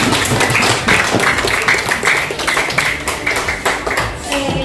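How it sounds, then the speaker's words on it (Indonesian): A group of participants in a school coaching session claps together in a quick, steady rhythm. The clapping is close, busy and continuous for several seconds, with some voices mixed in. "Tepuk tangan untuk kita semua."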